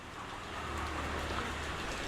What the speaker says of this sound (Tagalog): Magdamag na umuulan